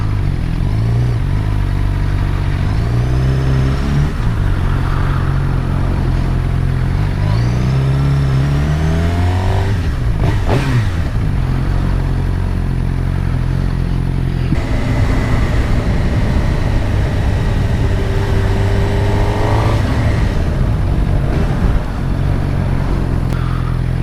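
Onboard a Suzuki GSX-R 600 with a Yoshimura exhaust, the 600cc engine revs hard at full throttle, climbing and dropping through gear changes in a loud continuous run with wind roar and passing traffic.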